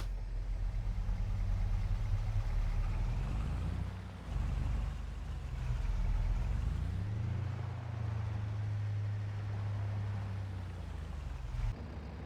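A tractor engine runs in Farming Simulator 22, a low steady drone that dips briefly around the middle and shifts pitch slightly later on, fairly quiet and with no talking.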